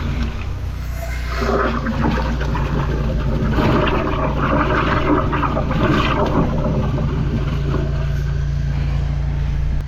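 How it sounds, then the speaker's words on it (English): High-pressure drain jetter nozzle spraying down a gully, a loud, steady roaring hiss of water and pump noise that continues without a break. "I'm going to drop this nozzle down around the gully."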